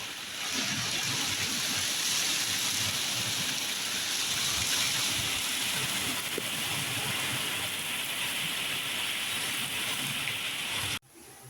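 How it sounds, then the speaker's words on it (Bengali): Steady rain falling, a continuous dense hiss of drops on surfaces that holds evenly before cutting off abruptly near the end. "বৃষ্টি চলে আসছে রহমতের বৃষ্টি"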